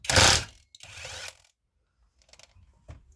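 An impact wrench loosens a 15 mm bolt on a Stihl FS55R string trimmer: two short, loud rattling bursts close by, followed by a few faint clicks and taps.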